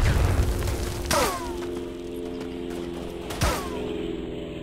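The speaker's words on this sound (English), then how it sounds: "Here comes the freaking artillery again." Two heavy artillery blasts in the WWI shooter Tannenberg, one near the start and another a couple of seconds later, each a loud boom with a long rumbling tail over steady battlefield ambience.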